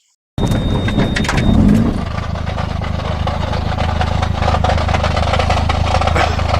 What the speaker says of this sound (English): I just broke third gear doing that clutch kick